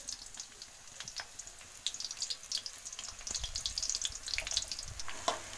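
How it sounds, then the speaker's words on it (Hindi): Onions hit hot oil in a home kitchen pan, a steady crackling sizzle that grows louder and busier, heard close with faint clatter around it. "ये हो गया इसका ऑयल, अभी हम इसको डालने वाले हैं प्याज।"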